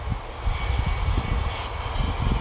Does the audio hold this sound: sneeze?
no